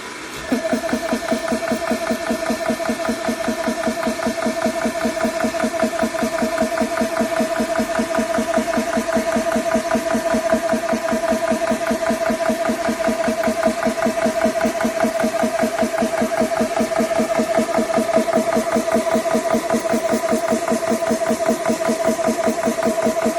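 A GX Pump CS3 oil-free PCP air compressor running on 110 volts, with a steady, fast mechanical chugging and a constant motor hum that stays even and fairly loud throughout, with no talking.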